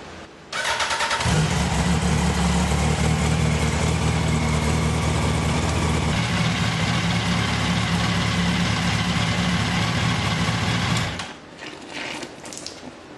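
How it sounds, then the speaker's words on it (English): Yamaha R1 sport bike engine starting and idling steadily while warming up during a coolant flush, a loud continuous mechanical rumble with ticking valvetrain that cuts off abruptly near the end. "we're gonna start the bike and let it run until we get up to temperature"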